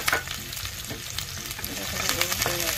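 Onions crackle and sizzle steadily in a hot pan while octopus is being cooked, a dense close frying hiss with a few sharper pops and no talk.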